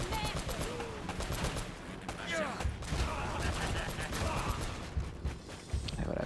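Machine gun fire in the PS4 remaster of Uncharted: Drake's Fortune, dense overlapping bursts and gunshots mixed with game effects and clatter, steady and loud throughout, with grenade action nearby.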